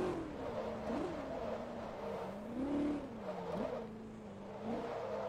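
Shelby Cobra race car engine in Forza Motorsport 2, a loud continuous roar that swells and dips in pitch with repeated quick gear changes.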